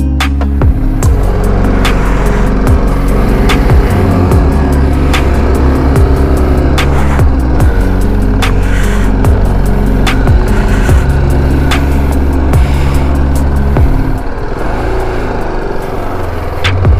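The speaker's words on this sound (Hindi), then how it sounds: "पूरा पानी के अंदर में गाड़ी लेके जाऊंगा." A car is driven through water at Sapua Dam, its engine running steadily and loud close by the whole way, with faint splashing and knocks mixed in and no talking.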